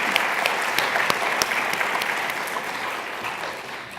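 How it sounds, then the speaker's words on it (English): Sustained applause from a healthcare conference audience, dense and steady clapping filling the room for the whole stretch, no talk over it. "Big round of applause for that"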